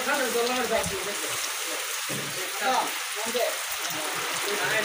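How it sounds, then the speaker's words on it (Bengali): Heavy, steady rain from Cyclone Remal falls in a village setting, a dense continuous hiss of drops on surfaces heard close and fairly even throughout. "আমাদের এলাকায় তো এরকম সারাদিন বৃষ্টি"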